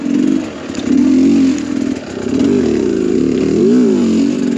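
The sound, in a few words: motorcycle accelerating with Lectron Billetron carburetor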